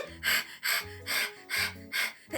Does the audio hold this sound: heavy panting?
yes